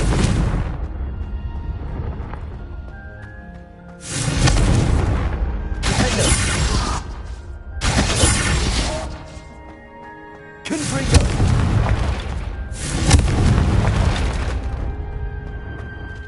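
Confringo spell blasts in the video game Hogwarts Legacy go off as a series of loud, deep booming explosions, roughly five separate bursts over a steady game soundscape with sustained tones, without spoken words.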